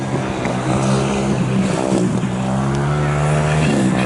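A 200cc junior solo speedway motorcycle races down the back straight of a dirt oval track, its engine note rising and falling as it accelerates, loud and continuous with crowd or announcer noise beneath.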